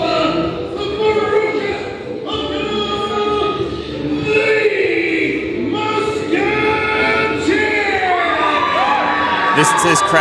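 A large live-show crowd cheers, shouts and whoops in a loud, continuous roar, with individual high yells rising above the mass and a few voices calling out near the end.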